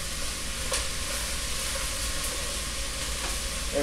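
Damp greens fry in hot oil with onion and garlic in a pan, giving a continuous, even sizzling hiss with faint crackles and no voices.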